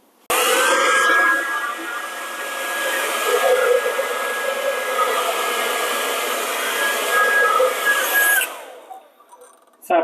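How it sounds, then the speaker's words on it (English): A hair dryer switches on with a click in a hotel bathroom, blowing as a steady, loud whoosh with a thin whine for several seconds before cutting off. "here you can plug your hairdryer"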